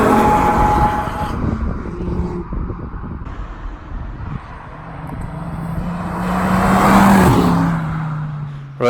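Mk2 Ford Focus ST driving past outdoors, engine note building from a distance to a loud close pass around the middle and fading away, with a rising then falling tone.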